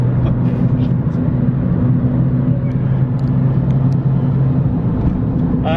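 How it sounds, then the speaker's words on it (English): A supercharged R53 Mini Cooper S drives at about 30 mph, heard from inside as a loud, steady engine drone with a constant whine from the supercharger. "Supercharger just goes and goes."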